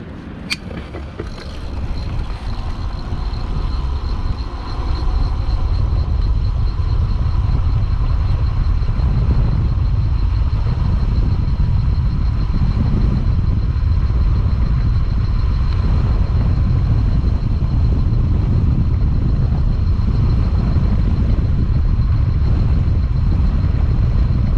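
Vintage Electric Roadster e-bike pushed to full throttle in race mode, a steady loud motor whine and rushing wind noise holding constant for the whole stretch without a break.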